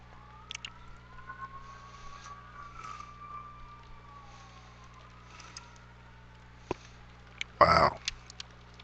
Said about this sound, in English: the sirens going crazy